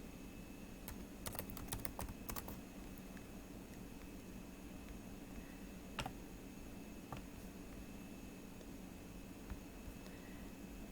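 Quick bursts of computer keyboard typing, a few clustered runs of clicks near the start and then scattered single keystrokes, faint and close over a steady low hum with no voices.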